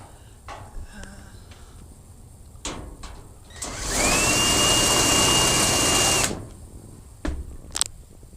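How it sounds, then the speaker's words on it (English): A power drill removing screws from a bulkhead door in a Chevy cargo van whirs in one steady burst of about two seconds, close by, between quieter scraping and clicking handling sounds. "now I'm trying to take these screws out of here with this power drill"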